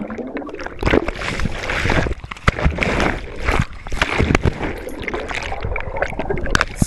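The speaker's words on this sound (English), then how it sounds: "So I'm just swimming," Swimming through a muddy water obstacle at a Tough Mudder event: continuous close splashing and sloshing, with irregular strokes and bursts of churning water throughout.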